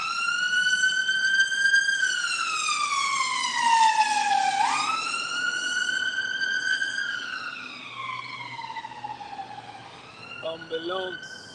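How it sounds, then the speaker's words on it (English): Ambulance siren wailing loud and close, its tone sweeping up and down in long repeated glides, with a brief burst of other sounds near the end. "Ambulance."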